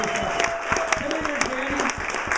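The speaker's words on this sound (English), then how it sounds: "big round of applause for Jandy Youthman" A reunion crowd applauds an honoree with brisk, steady clapping while voices talk over it.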